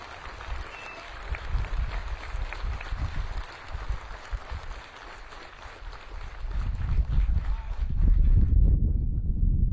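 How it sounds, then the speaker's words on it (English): An audience at Fort Bragg applauds paratroopers with sustained clapping that swells and grows louder toward the end, mixed with some crowd noise and a voice early on. "Please join me for a round of applause in recognizing these exceptional paratroopers"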